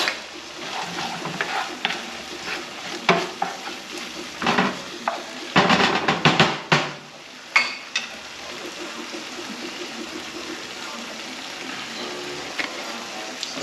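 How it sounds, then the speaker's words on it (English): Vegetables sautéing in a pan for corned beef rice, a continuous close sizzle with bursts of louder scraping and stirring near the middle, then settling back to a steady fry. "The corned beef is pretty much cooked, so you should saute all of this stuff prior to putting"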